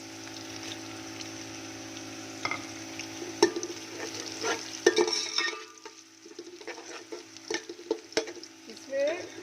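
Browned onions fry in a pan as garam masala goes in for an aloo pulao, with steady close sizzling, stirring scrapes and a few light clinks, no talking.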